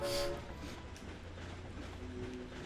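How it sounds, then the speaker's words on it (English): Train rumbling past in the Ratchet and Clank video game's Metropolis, a steady low drone with a brief bright swell at the start, heard alone without talk. "What an unsafe train."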